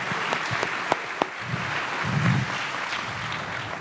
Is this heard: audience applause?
yes